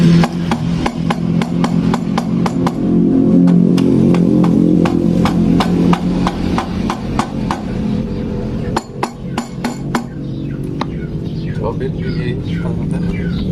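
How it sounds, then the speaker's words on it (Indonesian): A rubber mallet pounds on a 2019 Honda Scoopy scooter engine being split open for a stuck part, with sharp, rapid strikes in quick bursts and scattered single blows, while people talk nearby. "pantek dipakai palu karet"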